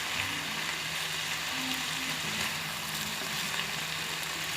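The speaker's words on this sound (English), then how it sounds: "So just keep stirring your mixture." Creamy chicken and mushroom mixture is stirred in a pan, giving a soft, continuous sizzle and hiss with faint scraping, close and steady throughout.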